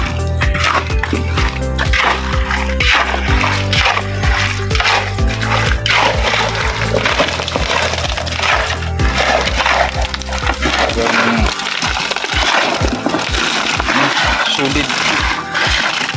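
Wet concrete sloshes and splatters as it is poured at a house construction site, with scraping and knocking of tools and people talking over the noise.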